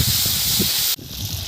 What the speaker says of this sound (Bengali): তেল গরম হয়ে গেছে। এখন মাছের তেলটা দিয়ে দিচ্ছি।